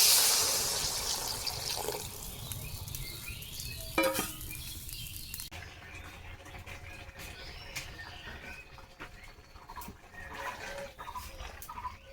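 Food fries in a covered pan, a soft bubbling sizzle that starts louder and fades to a low, steady crackle, with faint clinks of utensils and occasional small pops over a quiet kitchen.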